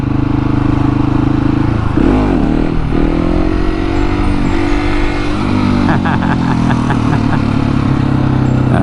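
KTM 701 Supermoto single-cylinder engine during wheelie throttle practice, loud and close, with pitch swells as the throttle opens and eases, then a choppy burst of rapid revving near the end; a voice talks over it.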